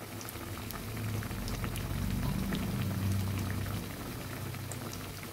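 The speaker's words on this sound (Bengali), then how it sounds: "এরকম লাল লাল করে ভেজে নেব।" Banana flower cutlets deep-frying in hot oil, a steady close bubbling crackle that swells in the middle and holds at an even level, with no voices.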